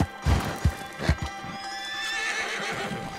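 A horse whinnies and its hooves clip-clop on the ground in Red Dead Redemption 2, several sharp hoof strikes early on, then a drawn-out neigh, close and fairly loud with no talk.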